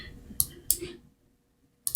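A few sharp computer keyboard clicks while entering a number in 3D animation software, two quick taps, a pause, then another tap, close and quiet, with no talking.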